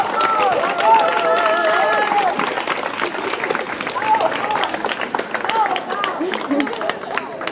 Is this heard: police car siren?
no